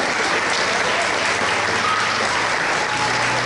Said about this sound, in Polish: Wielkie brawa dla pań.